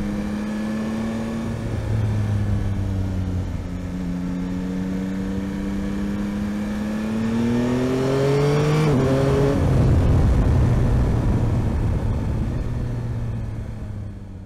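A Yamaha Tracer 9 GT motorcycle with its three-cylinder CP3 engine revs while riding, a loud steady drone rising and dropping through gear changes, climbing to a strong peak before settling back, heard close with wind noise.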